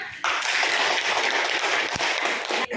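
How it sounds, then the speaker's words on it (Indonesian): Schoolchildren applaud together in a classroom, a dense, steady burst of clapping that starts abruptly and holds for a few seconds before cutting off. "tepuk tangan dulu"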